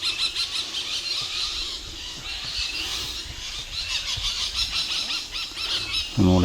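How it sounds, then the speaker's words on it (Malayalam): Birds call in an early-morning forest on the Periyar Tiger Trail: shrill, repeated chirps and squeals at middle distance over a quiet background, growing busier toward the end. "അതിരാവിലത്തെ കുറച്ച് പക്ഷികളുടെ സംഗീതം ഒന്ന് ആസ്വദിച്ച് നോക്കിയാലോ"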